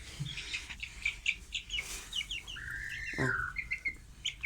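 A broody hen clucks and squawks near a chick, with a rising, sliding call and scattered chirps in a short, close, fairly loud burst; no talk.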